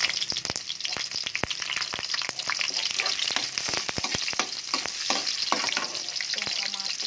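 Garlic and onion sauteing in hot oil while cooking a jackfruit dish, a steady close sizzle broken by frequent sharp scraping and stirring clicks of a utensil in the pan.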